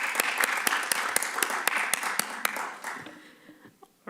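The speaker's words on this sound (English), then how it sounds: "I think we should give her a round of applause." Audience at a Human Rights Commission meeting applauds, steady clapping from many hands that fades out over the last second, recorded in a room at moderate distance.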